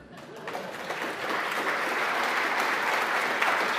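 Applause from a tech conference audience swells up and holds steady, a dense, continuous wash of clapping that grows fuller over a few seconds.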